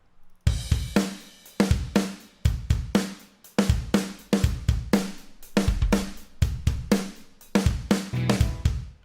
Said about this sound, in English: So anyway, the drums by themselves, they sound like this.